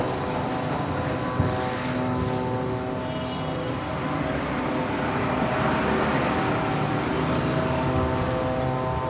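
A drone flies overhead outdoors, its steady buzzing propeller drone running loud and continuous for the whole stretch, with no talk.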